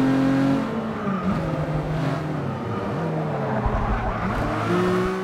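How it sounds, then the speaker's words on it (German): Race car engines in the Forza Motorsport 6 video game, loud whining and shifting revs as one car drives and another howls close behind, with tire noise through the track. "In den Kopfhörern gehört, dass da irgendein Motor hinter mir jault."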